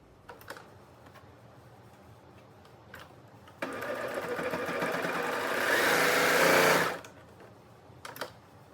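A serger stitches fabric pieces together for a cloth diaper, a few soft clicks and handling noises before the machine whirs up into a fast, loud, continuous buzz for about three seconds, then stops, close and without talk.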